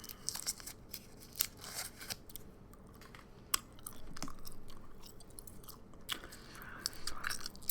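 Soft, moist chewing of Trident cinnamon gum up close, irregular smacks and clicks at a quiet level with no talking.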